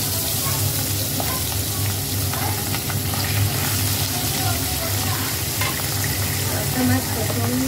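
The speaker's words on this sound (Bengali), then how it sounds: "তেলটা গরম হয়ে গেছে, আমি মাছটা ছেড়ে দেবো।" Pabda fish fries in hot mustard oil, a close, continuous crackling sizzle with small pops and faint stirring scrapes throughout.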